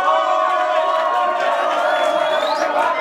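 Concert crowd at a French hip-hop show cheering and whooping loudly and continuously, a dense wall of voices with rising shouts throughout.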